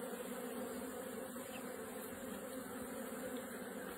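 Honey bees hum at a strong, swarm-ready hive, a faint, steady, unbroken drone with no voices.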